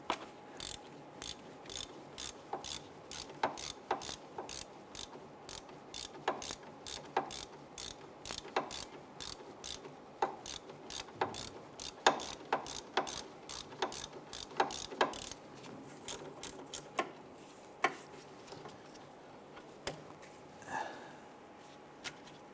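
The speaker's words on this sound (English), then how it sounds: "We're using our swivel head ratchet to get in there." Swivel head ratchet loosening a castle nut on the pitman arm of a 1999-2004 Jeep Grand Cherokee, sounding as a steady run of sharp, close metallic clicks in quick repeated bursts, with no talking.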